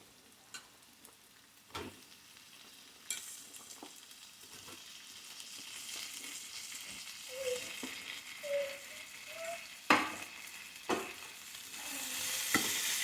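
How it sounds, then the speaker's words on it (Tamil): Ivy gourd (kovakkai) stir-fried with onion in a pan, with soft scraping stirs and clinks of a spatula over a light sizzle, a few sharper taps standing out, and the frying growing louder toward the end. "கோவக்காயை நல்லா பரட்டி விட்டுக்கலாம்."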